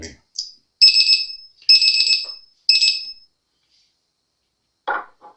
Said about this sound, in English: I had a timer on.